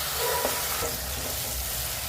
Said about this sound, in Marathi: दोन मिनिटं याला आपण परतून घेऊयात मस्तपैकी